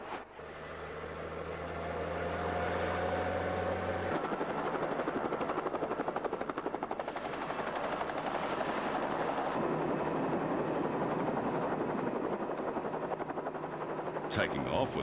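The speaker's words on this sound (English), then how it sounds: "Taking off with a southern bearing, the helicopter skims the sparse country." A helicopter flies low over sparse, semi-arid outback savanna, its steady rotor thump and engine whine loud and continuous throughout, with a brief shift in tone partway through.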